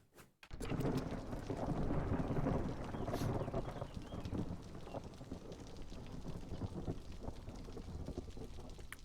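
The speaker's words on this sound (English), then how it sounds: "We're about to have a storm briefly." Thunderstorm in a beaver colony-building video game: a sharp rumbling crack gives way to a steady, loud wash of rain and wind that keeps going, with no voices over it.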